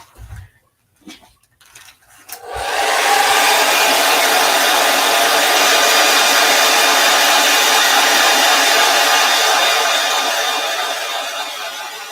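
A hair dryer drying a handmade advent calendar craft switches on after a few soft handling noises and then blows as a steady, loud, close whoosh that eases off only slightly near the end.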